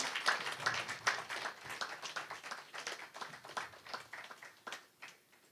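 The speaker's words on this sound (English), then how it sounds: "Ladies and gentlemen, let's get some applause." Audience at a conference panel applauding for a panelist with steady, thick clapping for several seconds that trails off at the end. Quiet and somewhat distant in the room, with no voices over it.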